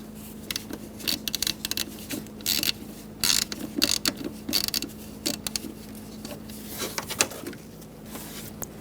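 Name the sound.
ratchet with T20 bit removing mass airflow sensor bolts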